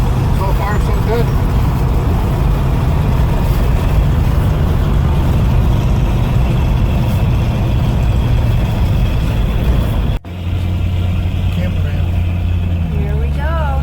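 A loaded 1957 Ford panel van with power steering cruises along, its engine and road noise droning steadily and loudly throughout, with a brief dip just past ten seconds before the steady rumble resumes.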